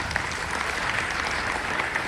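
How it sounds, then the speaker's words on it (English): A seated audience applauds a panel guest as he is introduced, a dense, steady wash of clapping at close range that holds evenly throughout. "A big round of applause for him."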